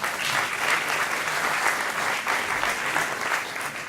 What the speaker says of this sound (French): Il faut applaudir ça aussi.